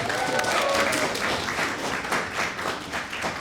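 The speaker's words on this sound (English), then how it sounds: "Can we have a huge round of applause for him?" An audience applauds steadily, with dense overlapping claps filling the room throughout and no voices.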